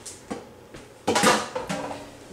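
Cabbage is stirred into a pot with a spoon, making a few soft scrapes and metallic knocks against the pot, close by and fairly quiet.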